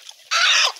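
A chicken is bathed to rid it of parasites, giving one brief, loud burst of harsh, hissing squawk or splashing noise that rises suddenly and cuts off within half a second.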